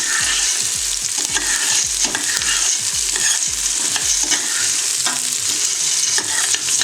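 Chopped onion frying in a pan for a poor man's soup, a loud continuous sizzle with rhythmic scraping strokes of a stirring utensil repeating roughly every half second, close up and without talk.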